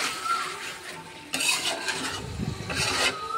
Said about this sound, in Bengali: মশলাটা খুব সুন্দরভাবে কষানো হয়ে গিয়েছে।